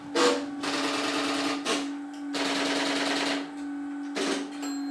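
Selectors in a UAX13 Strowger telephone exchange clatter in rapid mechanical bursts, several loud, close runs of ratcheting clicks separated by short pauses, all over a steady electrical hum.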